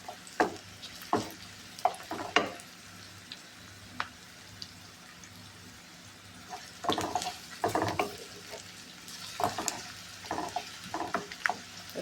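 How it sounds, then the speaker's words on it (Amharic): Onion and garlic frying in a pan, with a soft continuous sizzle and intermittent sharp scraping stirs in clusters, close by and without talking. "ሽንኩርታችንን በደንብ ጥብስ አደርገዋለሁ ማለት ነው ቤተሰቦቼ።"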